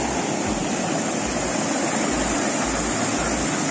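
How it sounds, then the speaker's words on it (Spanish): Waterfalls cascading at Parque Europa, an outdoor park near Madrid, give a dense, steady rushing roar that is broad and constant, with faint low rumbling beneath and no voices. "¡Mira, mira las cascadas!"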